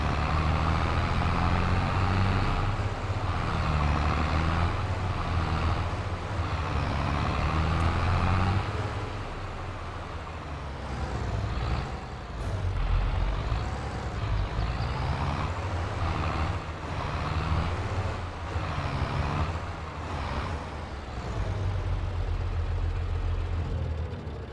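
Truck engine in Farming Simulator 22 idling and revving while parking a trailer, a continuous loud low rumble with shifting pitch sweeps and a brief dip in level midway, no talking.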